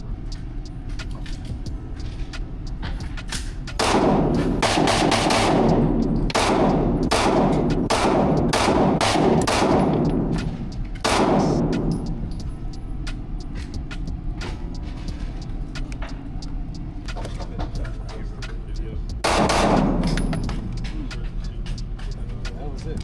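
Mossberg 590 shotgun firing 3-inch shells outdoors, loud sharp blasts in quick succession, about six rapid booms followed by a couple more spaced shots, each with a short echoing tail over low background rumble.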